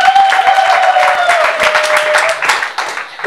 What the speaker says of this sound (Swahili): hebu mpigie Bwana makofi.